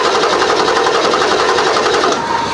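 A high-mileage 7.3L Powerstroke diesel engine cranks on a weak battery, a rapid, even mechanical whirring chatter held continuously at close range with no voices.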